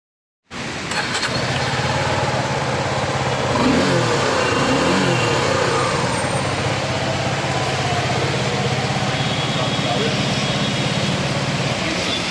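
A Suzuki V-Strom SX 250 motorcycle engine starts and keeps running loudly and steadily with some revving, close by at a puja blessing of the new bike in Shirdi, with voices faintly underneath.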